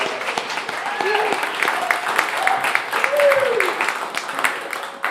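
Applause from a live radio audience at the WDVX Blue Plate Special show for a singer, a steady wash of clapping lasting several seconds with some vocal sounds mixed in.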